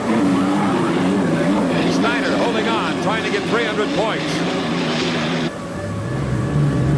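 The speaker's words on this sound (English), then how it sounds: "in that Marine Turbine Lycoming engine" A hydroplane race boat powered by a Lycoming marine turbine engine roars steadily in the background during a race, a continuous loud whine and rumble under a commentator's excited talk.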